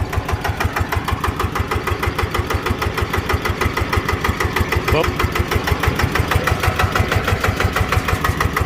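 A single-cylinder engine idles on a small dump truck rated to haul 10 tons, thumping in an even, rapid, close-up beat that stays steady throughout.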